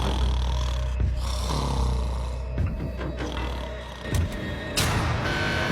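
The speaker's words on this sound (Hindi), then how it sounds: "तुम्हारे खर्राटों ने सोने नहीं दिया।" A man snores in a jail cell, a loud, continuous low rumbling drone with rough rattling breaths and no talking over it.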